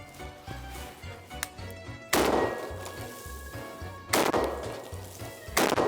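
A Beretta 1301 Tactical Gen 2 shotgun fires buckshot into an uninsulated wall, giving two loud, sharp blasts about two seconds apart with ringing decay and the start of a third at the end.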